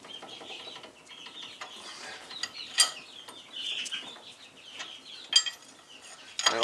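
A ratchet tightening the brake caliper bracket bolts on a 2005 Land Rover LR3: rapid, clicking pawl sounds in short runs, fairly faint and close, with a few sharper metallic knocks.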